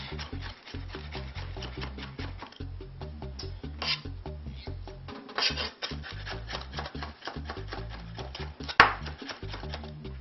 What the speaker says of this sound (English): One more run through with a knife.